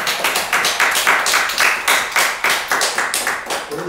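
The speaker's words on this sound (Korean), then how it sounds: "강 목사님 우리 박수 한번 해드립니다." A Korean church congregation claps for the pastor after his sermon, a loud, continuous run of many overlapping claps in an uneven rhythm, with no voices over them.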